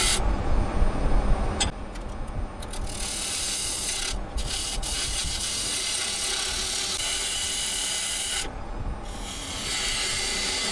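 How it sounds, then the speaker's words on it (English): Scrap wood spinning on a lathe as gouges cut shavings, a steady close scraping and hissing rub with short breaks where the tool lifts off, then bites back in; no voices. "what I'm doing right here is basically just, playing with my tools, my gouges, getting all kinds of good shavings going here and there"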